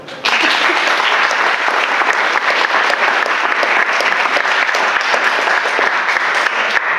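A room full of audience members applauds a discussion panel on Standing Rock and justice, with steady, dense clapping that starts abruptly and holds at full strength close to the listener throughout.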